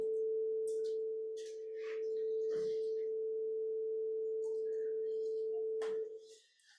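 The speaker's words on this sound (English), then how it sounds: "sounds like a sine wave" A steady pure sine tone generated in Faust holds at one pitch for about six seconds, loud and constant, then cuts off near the end, with faint background clatter.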